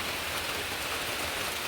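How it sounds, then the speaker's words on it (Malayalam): A downpour of heavy rain roars as an unbroken, even wash of drops striking surfaces, loud and close, with no speech. "എന്താ മഴ തകർത്ത് പെയ്യുകയാണ് കേട്ടോ"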